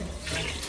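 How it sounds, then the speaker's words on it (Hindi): Water pours steadily from a tap or vessel into a cooking pot for saag and chicken biryani in a village kitchen, a brief, close, continuous splashing rush with no talking. "चलो 4 गिलास पानी के डालना"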